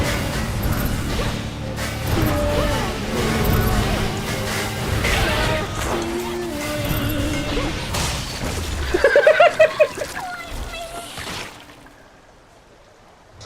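Fiery explosion from a fireball attack in the video game Hades II, a bright crackling burst and rapid impacts rising out of layered game music and effects, then quickly dying away to near silence.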